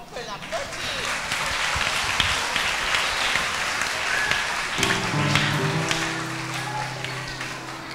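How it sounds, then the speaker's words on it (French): An audience at a spiritual school celebration applauds a child, a broad, even patter of clapping throughout, with a voice and a sustained tone entering partway through. "On peut l'applaudir"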